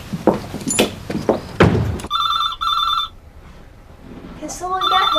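A telephone bell rings in two loud bursts in a domestic soap-opera setting, following a stretch of a voice talking; after a pause, faint rustling and a few soft sounds follow.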